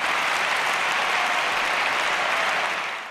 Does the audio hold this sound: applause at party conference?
yes